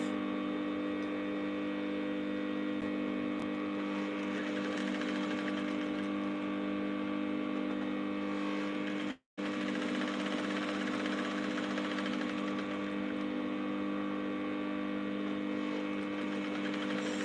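A sewing machine stitches a corset, running as a steady close whirring hum with a fast, even mechanical buzz that cuts out for a split second midway and then carries on.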